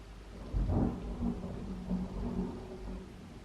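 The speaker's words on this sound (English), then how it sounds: "there is so much thunder" Thunder during a thunderstorm, a faint, brief low rumble that swells once and trails off over soft background rain.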